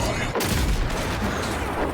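Gunshots in the video game Avowed sound as a dense, rapid volley of loud close bangs through most of the two seconds, with a voice in the mix.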